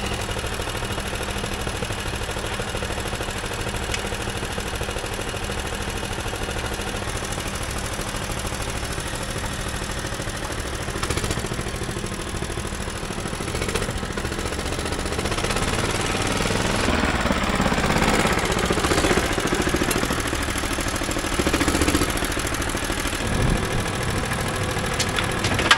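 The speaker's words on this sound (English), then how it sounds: "let me reposition our little buggy and it should help us out" A small motorized dumper buggy's engine runs loud and close throughout, a rough, rattling, knocking drone that swells slightly as the machine is moved, with no talking.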